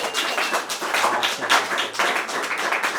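Audience applause at a panel discussion event, a steady patter of many hands clapping for about three seconds with no speech over it.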